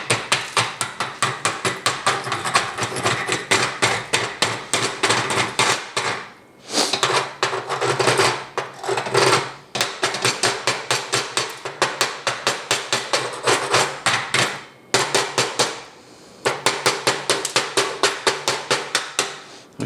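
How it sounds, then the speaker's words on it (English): A steel chipping hammer knocks slag off 1/8-inch 7018 stick welds in rapid, close, loud bursts of metallic taps, broken by a few short pauses. No one speaks. "let's go ahead and clean the slag off of those and see what they look like"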